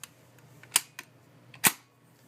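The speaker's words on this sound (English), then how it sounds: "Really smooth bolt action on these rifles." A 1943 Savage No4 Mk1* Lee Enfield rifle has its bolt cycled, giving a few sharp metallic clicks and clacks at close range, two of them louder than the rest, over quiet background.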